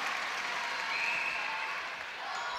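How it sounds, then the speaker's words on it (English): Netball crowd at a Nations Cup match between Botswana and Singapore cheering and applauding after a level score, a dense sustained roar with a rising whistle-like cheer, steady throughout. "And hear the crowd."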